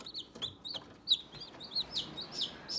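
Newly hatched chicks in an incubator cheep in a quick series of high, sharp peeps close by over a faint background hum.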